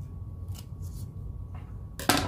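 Scissors snip through tape in a quiet room, a few soft cuts followed by one sharper, louder snip near the end, close to the listener.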